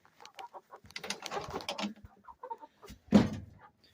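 Chickens clucking inside a chicken coop shared with ducks and guinea fowl, a few close, scattered clucks and short calls, with brief quiet gaps between them.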